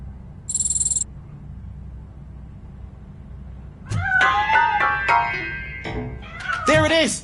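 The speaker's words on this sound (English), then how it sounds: "That cat must be hiding inside." A hidden cat inside a piano in Robocop Rogue City gives a short squeak early, then after a quiet stretch lets out a run of loud, close meows and yowls.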